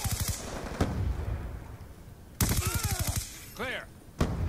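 Bursts of rapid automatic PDW gunfire in Black Ops 2 team deathmatch, loud close rattling volleys broken by gaps, with single sharp shots and a warbling game effect between them.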